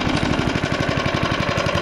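A vintage heirloom lawn mower engine runs loud and close with its self-propel drive engaged, a steady rapid chugging pulse with a mechanical clatter throughout and no talking.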